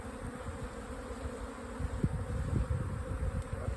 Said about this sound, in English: Shake the bees over the top of it.